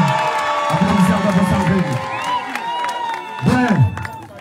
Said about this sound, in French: Applaudissez encore pour Sandrine,